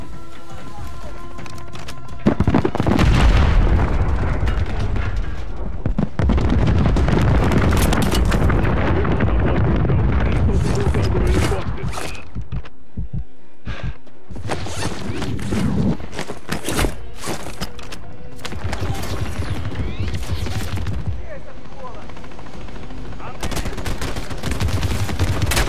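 A bomber airstrike in Call of Duty: Modern Warfare II lands as a long barrage of heavy, booming explosions mixed with rattling gunfire, loud and close, with brief lulls between blasts.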